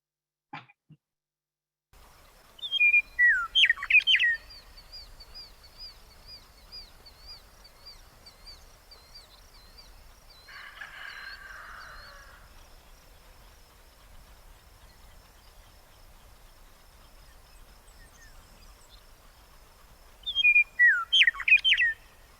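Wild birds singing outdoors: bursts of rapid chirping trills near the start and end, with a long thin high whistled call between and faint low background rumble, no speech.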